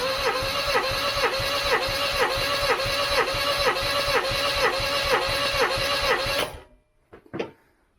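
A 1989 Austin Mini's 998cc A-series engine cranks over on the starter during a compression test with its even, rhythmic chugging strokes, loud and close for about six seconds before stopping abruptly.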